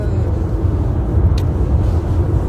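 Inside a moving car heading to Genoa Airport, a steady low road rumble and engine hum fill the cabin, with a brief faint click midway and no voices.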